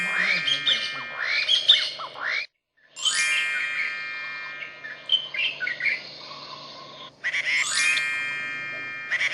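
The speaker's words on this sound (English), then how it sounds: "Helpers use special equipment to collect bird sounds." Recorded bird calls collected with special equipment, a series of bright chirps, trills and squawks in several bursts separated by short silent gaps, fairly close and clear.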